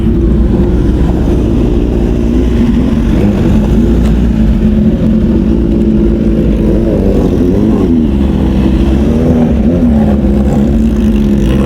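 Loud, continuous engine rumble of a convoy of motorcycles of various brands at a Modenas Hari Raya gathering in Gurun, Malaysia, with rising and falling revs as the pack rides along, no talking.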